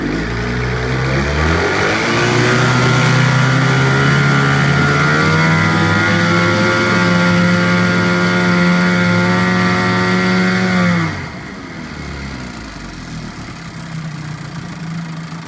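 A 1976 15hp Johnson outboard motor runs loud and close in a test tank, holding a steady buzzing drone with a slight rise in pitch before dropping to a lower idle near the end.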